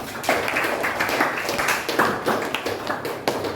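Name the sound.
classroom clapping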